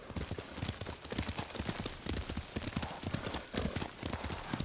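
Horse hooves clip-clop at a quick, steady gait as a rider travels in Ghost of Tsushima, set in feudal Japan, a close, continuous rhythmic pounding over an ambient bed.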